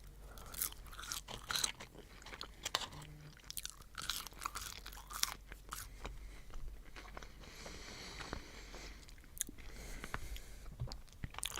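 Crunchy McDonald's fries being chewed close to the microphone, with soft crisp crunches and wet mastication sounds repeating steadily throughout, quiet and intimate with no talking.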